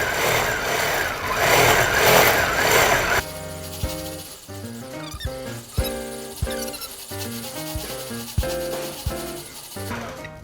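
A sewing machine does thread painting on a quilt, its motor whirring and stitching close by in bursts that speed up and slow down, with no talking.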